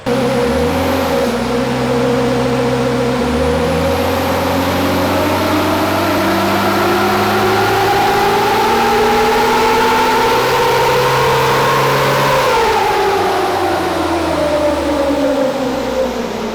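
Swapped Nissan Patrol engine pulling hard under boost on a dyno, a loud sustained roar with rising harmonic pitch that climbs steadily then drops sharply near the end, close and continuous with no talk.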